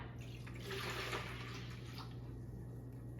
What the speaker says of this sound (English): add the water to your bucket